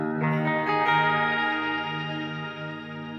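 Electric guitar played through a KMA Cirrus effects pedal, sustained chords with a warbling chorus-like shimmer and trailing echo, ringing close and fading slowly over a few seconds with no voice.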